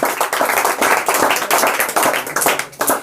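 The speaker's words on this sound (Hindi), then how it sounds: "जोर से बोलो, ताली बजाओ।" Classroom students in a Bihar board quiz class break into loud, close group clapping, a dense burst of hand claps with uneven rhythmic peaks that lasts about three seconds, with no talking.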